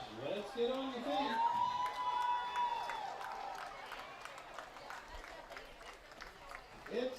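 High school football crowd at an Eagles game cheering and shouting at a distance under a nearby announcer's voice, with scattered claps and a drawn-out whistle-like tone.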